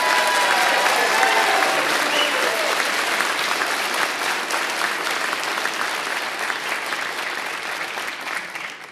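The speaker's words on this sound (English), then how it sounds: "Ladies and gentlemen, how about a big round of applause for our Williamsburg firefighters?" An audience at a firefighter academy graduation applauding steadily, a dense, loud wash of clapping that stays strong throughout and tapers slightly toward the end.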